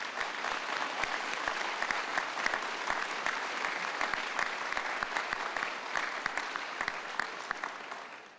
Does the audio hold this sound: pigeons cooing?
no